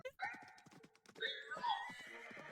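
A horse in a pony video game on Steam gives a sharp whinnying neigh, heard clearly and up close in a short, quiet burst with a few hoof-like clops.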